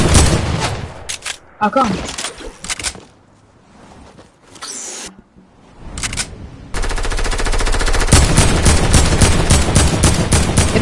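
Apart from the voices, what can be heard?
gunfire in a video game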